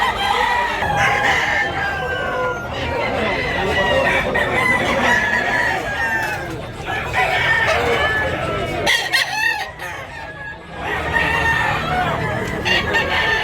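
A bullstag rooster crows repeatedly and clucks loudly and close by at a poultry sale, with other fowl and a faint voice in the background.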